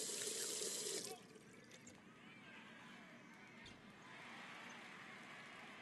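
A tap runs in a bathroom in the game Captain Spirit. A loud gush is cut off after about a second, then a softer trickle and faint splashing stays under quiet room noise.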